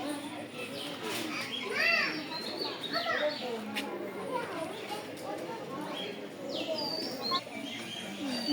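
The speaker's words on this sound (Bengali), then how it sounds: "এই পাশে কিছু পাখি আছে, পাখি দেখতে যাইতেছি।" Birds calling in a park enclosure, with chirps and cooing pigeon or dove notes scattered across the stretch, set against busy outdoor ambience with children playing and people talking in the background.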